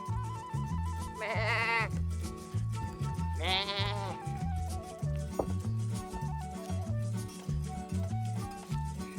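A person imitates a goat, giving two drawn-out, wavering bleats a couple of seconds apart over a steady, rhythmic background hum.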